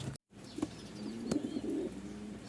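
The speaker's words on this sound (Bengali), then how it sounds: "হবিগঞ্জ মাধবপুর কাউন্টার 2 জোড়া কবুতর চলে যাচ্ছে" Domestic pigeons coo softly in low, repeated throaty murmurs, with a faint chirp or rustle mixed in. The sounds are quiet and close, with no speech.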